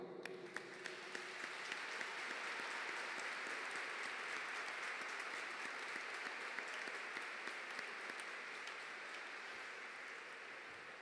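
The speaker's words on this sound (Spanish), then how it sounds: "A ellos les vamos a dar ahora una ovación." A large crowd applauds continuously at the Bajada de la Chinita 2023 festival, a dense, even wash of clapping that holds steady for over ten seconds without speech.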